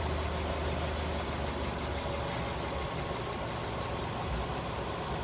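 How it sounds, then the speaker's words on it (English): A car engine running steadily with the AC compressor engaged, a loud continuous low drone and hum with no voices, constant throughout. "the compressor just came on"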